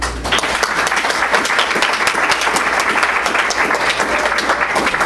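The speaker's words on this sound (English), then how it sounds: "So, round of applause," Steady, dense applause from an audience at a talk fills the space, many hands clapping evenly and loudly without a break, with no voices standing out.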